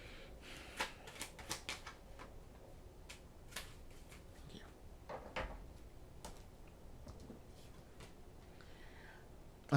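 Oracle cards being drawn and shuffled at a reading table, a run of soft, close paper flicks and light taps in irregular bursts, with no talking.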